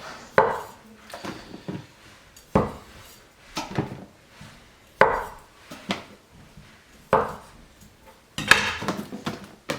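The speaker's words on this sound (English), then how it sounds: "I've got some new potatoes here, British potatoes. Gonna chop a few of those in there as well." British new potatoes chopped on a board in a home kitchen, with about six sharp knife strikes landing at irregular intervals, each followed by softer scraping and shuffling sounds. The chopping is close and clear, with no talking.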